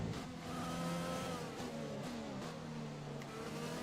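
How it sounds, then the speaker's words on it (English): Ferrari Formula 1 car pulling out of the pit lane in the F1 2020 racing game, a steady engine whine with shifting harmonic tones, sustained and fairly loud throughout with no talk. "That's a Ferrari coming out of the pits."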